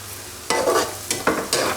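Food is stirred in hot cooking oil for aloo gosht, three or four short scraping, sizzling strokes against the pot over a low background hum.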